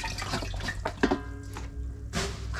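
Beef broth pours from close range into a pot over an open cooking fire, making a splashing, gurgling liquid stream that runs steadily with a few uneven surges.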